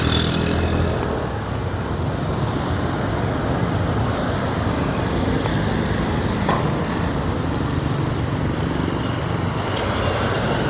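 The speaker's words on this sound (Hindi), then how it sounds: "तो ये देखो ये स्कूटर," Steady street traffic in hot Cambodian weather, with scooters and motorcycles buzzing past up close for about ten seconds. It is loud and continuous, and nobody speaks.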